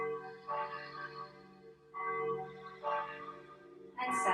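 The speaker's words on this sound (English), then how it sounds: "Take a moment to hear his bells" Meditation or singing bells struck during a quiet yoga practice, a few sustained resonant tones ringing out in separate strikes and slowly decaying, with a brighter strike near the end.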